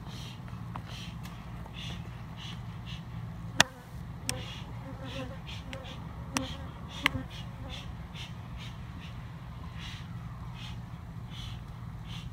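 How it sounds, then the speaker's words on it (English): Swarm of killer bees at a beehive being extracted outdoors: a faint, steady buzzing hum with a few sharp clicks and knocks scattered through it, and crows cawing in the distance. "So we're extracting this beehive right here."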